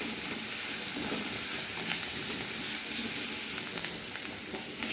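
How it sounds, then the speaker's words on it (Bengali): Chopped onion and garlic frying in a pan for a fish-head moong dal dish, giving a loud, steady close-up sizzle and hiss that runs unbroken from start to finish. "এরপরে পেঁয়াজ আর রসুনটা দিয়ে দিলাম। পেঁয়াজ রসুনটা একটু ভেজে নেব।"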